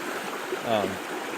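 Slate Creek flowing under a bridge: a steady, soft rushing of stream water heard from above, constant and even with no other sounds over it.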